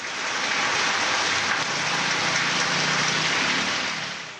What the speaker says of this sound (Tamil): மேற்கு தொடர்ச்சி மலை பகுதிகளில் கனமழை பெய்தது